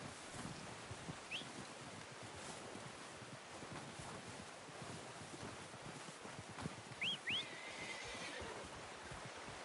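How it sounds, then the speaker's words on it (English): A horse in Red Dead Redemption 2 whinnies faintly a couple of times, short high squeals over a steady outdoor wind and rustle. "I'm gonna get this packed on my horse."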